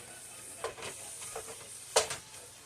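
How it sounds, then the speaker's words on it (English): Ground beef sizzling in a pan, a faint steady hiss broken by several sharp crackles and spatula scrapes as the meat is broken up, close and quiet, with no talking. "we're going to get our meat in the pan"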